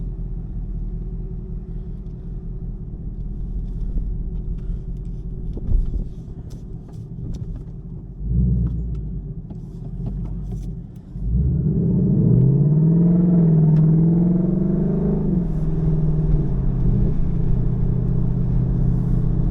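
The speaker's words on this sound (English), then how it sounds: "let's take it for a test drive and see if the wheels fall off" A Ford Mustang GT rumbles deeply from inside the cabin on a test drive, idling and rolling with a couple of bumps before the V8 swells into a sustained, louder acceleration drone.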